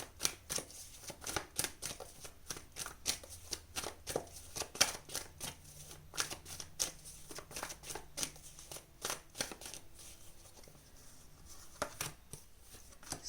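Tarot cards are shuffled and drawn by hand in a quick run of crisp riffling and flicking bursts, close and steady throughout, with no talking.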